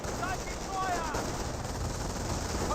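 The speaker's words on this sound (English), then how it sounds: "They do get suppressed by this MG42" Sustained MG42 machine gun fire in the World War II strategy game Company of Heroes, a dense, loud, continuous rattle with distant battle noise underneath.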